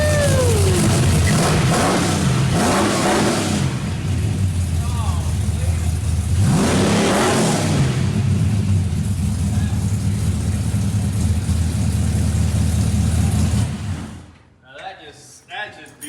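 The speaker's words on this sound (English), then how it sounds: "Let's hear there. this thing fire up." A 1967 Chevrolet Camaro SS with a 6.0 LS engine rumbles loudly nearby, with rising and falling revs around two and seven seconds, then cuts off near the end, leaving brief voices.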